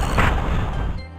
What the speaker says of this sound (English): why does the hippo yawn sound like this?